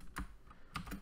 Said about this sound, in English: Sorry if my keyboard is loud.